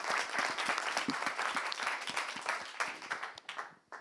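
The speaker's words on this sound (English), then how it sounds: "Big applause." An audience applauds at the close of a medical devices roundtable discussion, a dense burst of clapping from many hands that gradually thins and fades out.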